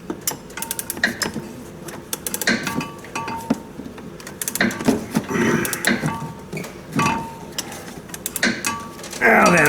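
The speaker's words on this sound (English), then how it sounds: "Ain't tight, but we're going to put the wrench on it now" Wrench working a lock nut on a front shock of a 2013 Jeep during a Rancho RS5000X install: repeated metallic ratcheting clicks and clinks in short bursts, close by, with occasional clanks and no talk.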